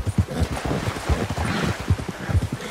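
Horse hooves clop in an uneven galloping rhythm in Red Dead Redemption 2, loud and close, with muffled thumps repeating through the whole span.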